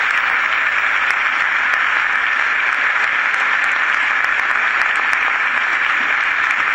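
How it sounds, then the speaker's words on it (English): Steady applause from a large crowd at a state government address, a dense, even wash of clapping that continues without pause. "Let's give them a round of applause and thank them for their service."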